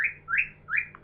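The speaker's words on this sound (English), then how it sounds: "There's a bird back there, if you can hear it." A bird chirps somewhere behind, indoors: two or three short rising tweets, fairly faint and clear against a quiet room with no talking.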